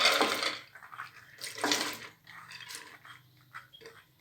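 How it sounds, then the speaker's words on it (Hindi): Soaked chana dal being washed in water for a dal palak tadka, with splashing and sloshing bursts near the mic, a quieter stretch between, and fainter trickles toward the end. "आपने इसको अच्छी तरह से धोना है"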